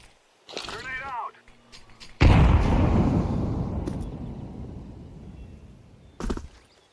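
A grenade exploding in Counter-Strike 2, a single sudden heavy blast after a short burst of voice and game sounds, its loud rumble decaying over several seconds before a brief sharp sound near the end.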